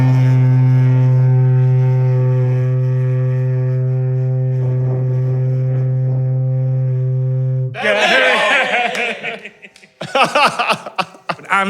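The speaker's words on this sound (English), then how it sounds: "putting up with me coming up and honking the foghorn" A foghorn at a Shetland lighthouse blasts one long, deep, very loud steady tone for nearly eight seconds, then cuts off into close laughter.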